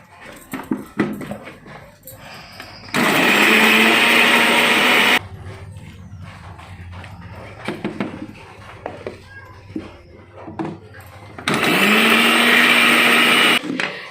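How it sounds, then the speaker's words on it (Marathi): A mixer grinder grinds Goan chicken xacuti masala with lemon juice and no water, two loud whirring bursts of a few seconds each separated by quieter kitchen clatter and brief voices. "याच्यात उदक न घालता आमकां हे वांटून घेवपाचे आसा"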